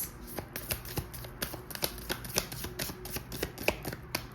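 Tarot cards shuffled by hand close up, a steady run of soft papery riffles and flicks with a few sharper slaps as some cards drop, no talking.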